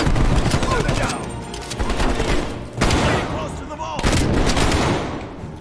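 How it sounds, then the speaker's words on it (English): Loud, close shotgun blasts in Black Ops Cold War come in rapid succession, with heavy booming bursts over a dense, chaotic battle background. "Shotgun time, baby!"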